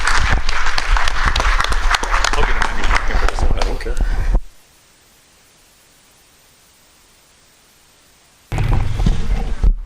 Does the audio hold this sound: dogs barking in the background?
no